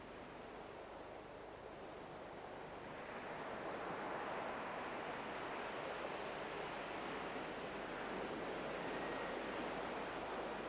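Sea waves wash and roar steadily as broad surf noise, building slightly louder after the first few seconds and continuing without a break, with no voices.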